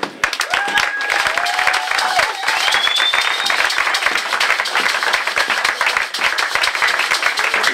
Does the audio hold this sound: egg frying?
no